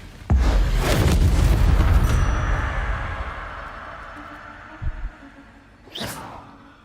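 Incendio fire spell cast in the video game Hogwarts Legacy: a loud burst with a deep boom and roaring whoosh that fades over a few seconds, followed by a couple of smaller thuds and a brief sharp swish.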